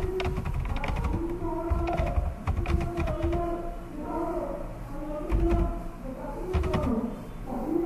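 Fast, uneven clicking of keys on a computer keyboard, in irregular bursts with short pauses between them, close and moderately loud.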